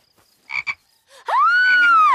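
A frog in a cartoon scene gives a loud, drawn-out croak with a rising and falling pitch, after two short clicks and a soft sound. No talk is heard during the croak.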